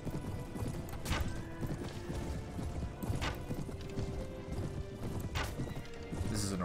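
Galloping cavalry thunders across a Mount & Blade Warband battlefield, dense rapid hoofbeats with loud neighs and whinnies, a busy continuous clatter with no talking over it.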